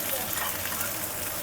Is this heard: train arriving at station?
no